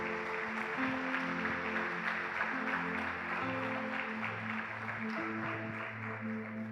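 A church congregation applauds together in a steady, dense wash of clapping that fills the whole stretch, with sustained keyboard chords ringing underneath.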